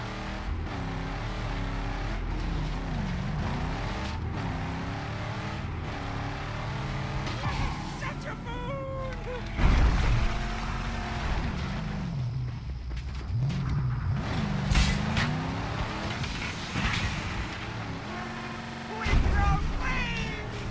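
A vehicle driven in the Mad Max video game, engine droning and rising and falling in pitch as it revs and accelerates across the wasteland, with occasional thumps of impacts, under continuous talking.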